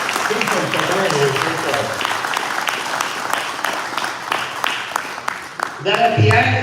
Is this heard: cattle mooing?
no